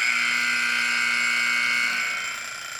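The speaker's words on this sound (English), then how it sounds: "turning the buzzer off." An electronic timer buzzer drones as a steady, loud high-pitched tone with a low hum beneath, holding for about two seconds before trailing off.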